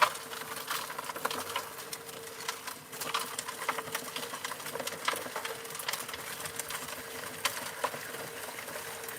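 A gold trommel runs steadily on a sunny day, giving a continuous rattling, pattering wash of gravel and water with a constant mechanical hum underneath, close and moderately loud, with no voices.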